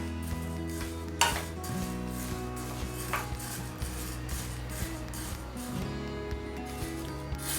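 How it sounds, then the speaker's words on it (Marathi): Rice and premix ingredients dry-roasting in a pan, with a continuous soft scraping and rustling stir, a few sharper clinks of the utensil against the pan, and a low steady hum underneath, close by. "सगळे जे इन्ग्रेडियंट्स आहेत ते थोडेसे भाजून घ्यायचे"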